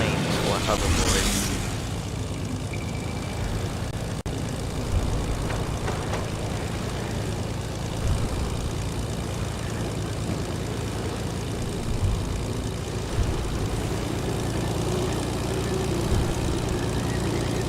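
Video game aircraft droning overhead during play, a steady low propeller-engine hum running throughout, with a player talking over it at times.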